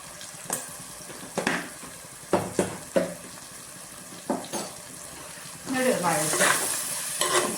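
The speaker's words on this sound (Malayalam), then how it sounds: "കുറച്ച് മല്ലിപ്പൊടിക്ക് ഇത്തിരി വഴറ്റണം വഴറ്റി കൊടുക്കാം" Coriander powder sautés in hot oil in a pan for a fish curry. A soft sizzle is punctuated by sharp spoon taps against the pan, then a louder burst of frying near the end.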